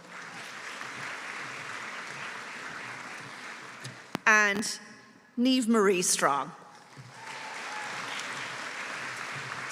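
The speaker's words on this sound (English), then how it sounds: "So a big round of applause for the Bachelor of Arts in Education" A crowd claps in sustained applause at a college graduation ceremony, filling the hall, while a voice reads out a graduate's name over a loudspeaker partway through.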